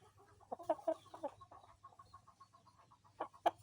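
Soft, quiet clucking from a rooster, several short irregular calls with a steady low hum underneath.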